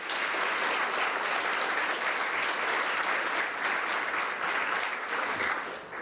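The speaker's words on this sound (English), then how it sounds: "so give them a round of applause" At a ribbon cutting for a new plant, an audience applauds in a dense, even roar of clapping that holds steady for several seconds before easing slightly at the end.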